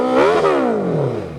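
A superbike engine, Suzuki Hayabusa or Daytona 675R with a slip-on exhaust, revs sharply up and then winds down in one loud, close blip.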